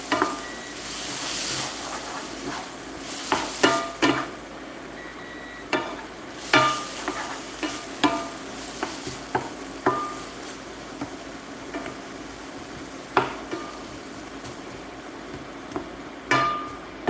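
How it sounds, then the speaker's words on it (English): Butter sizzles and starts to burn in a frying pan. A steady hiss runs underneath while a utensil stirs and scrapes, and sharp clinks and knocks against the pan come in irregular bursts, close up. "Oh shit, the butter's burning."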